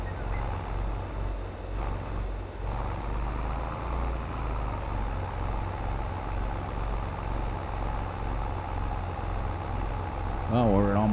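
A tractor engine idles in Farming Simulator 22, a steady low rumble with a throbbing pulse that holds throughout, close and loud, with a brief rising whine near the end.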